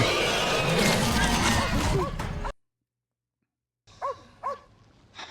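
A dog barks in the Fallout TV series, a few sharp barks rising out of a loud, busy scene, then silence, then two or three clear barks near the end.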